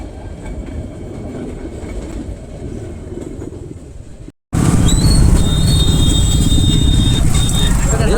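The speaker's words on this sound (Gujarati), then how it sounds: "રસ્તામાં ટ્રેન આવી ગઈ ફાટક બંધ થઈ ગઈ" A train rumbles loudly past a railway crossing, close by, with a steady clatter and a high ringing tone, after a brief quieter stretch and a sudden cut.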